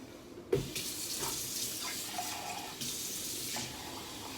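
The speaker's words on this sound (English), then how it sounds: "I am gonna add a little bit of water though, not a lot." About half a cup of water pours from a tap-like stream into an Instant Pot of jarred beef bolognese on the saute setting, a close, steady splashing flow that starts abruptly and runs alone.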